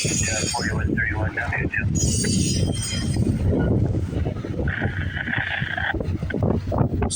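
A CN intermodal freight train rolls past with a heavy, continuous rumble and bursts of high metallic wheel squeal, while someone talks over it.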